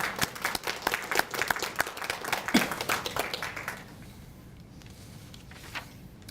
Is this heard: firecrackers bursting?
no